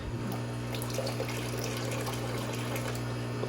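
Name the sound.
pouring water with shrimp into a new tank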